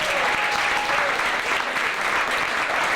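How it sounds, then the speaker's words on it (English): An audience claps in a steady, full round of applause that holds at an even level for the whole moment, with no break in the clapping. "let's give her a round of applause."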